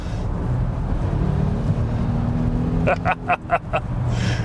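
A 2021 Volvo XC90 T8 Recharge plug-in hybrid SUV drives at highway speed, producing a steady loud engine and road drone. A voice briefly cuts in near the end.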